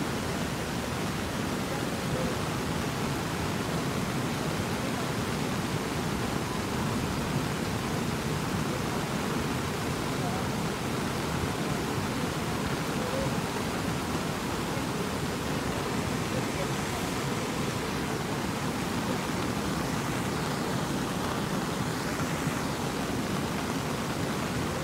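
A flooding river in Nepal rushes past with a loud, unbroken roar of churning water that fills the whole stretch without letting up. Faint voices may sit beneath the din.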